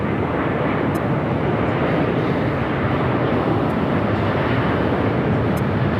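A jet airliner rolls for takeoff on runway 24 Left at LAX, a steady loud broadband engine roar sustained throughout with no distinct breaks.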